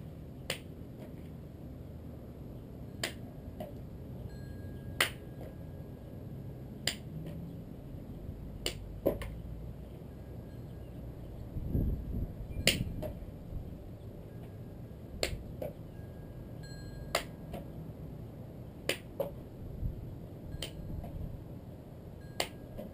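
Sharp single hand claps ring out one at a time at irregular intervals of a few seconds, each a crisp isolated snap close by, as someone catches a frisbee between clapping hands while standing on a slackline outdoors.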